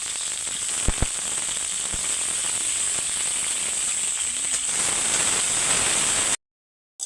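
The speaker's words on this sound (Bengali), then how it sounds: "সরিষার তেল পরিমাণ মতন দিচ্ছি। আমি লবণ মাখিয়ে রেখেছি, এই আলুটা তেলে কষে নেবো।" Potatoes fry in hot mustard oil in a wok, giving a steady close sizzle with a few sharp clicks near the start before it cuts to silence.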